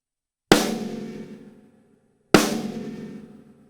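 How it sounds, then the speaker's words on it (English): Two sharp, loud snare drum rim shots, stick striking rim and center of the head together, spaced a couple of seconds apart, each ringing briefly before decaying into silence. "when you play a rim shot, you're striking the rim of the drum and the center of the head"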